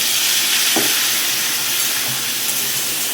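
Vegetables with ground spice powder and a splash of water are stirred in a hot pan over high flame, making a constant loud hiss and sizzle, with a single utensil clack near the start.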